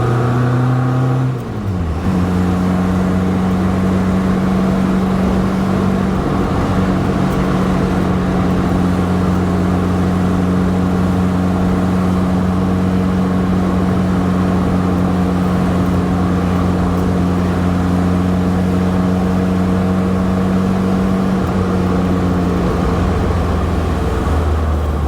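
Engine of a 1967 MG Midget while driving, a steady, loud droning hum with sustained low tones that shift pitch as the car changes speed, continuous throughout with no talking.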